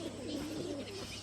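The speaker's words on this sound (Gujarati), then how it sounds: "અત્યારે લગભગ કબૂતર તો હંધાવી આવે ઉપર" Pigeons coo softly in a rooftop loft at dusk, a faint, steady murmur of low, rolling coos heard from a short distance, with no voices.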